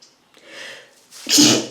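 One sharp sneeze, close and loud, preceded by a couple of soft indrawn breaths.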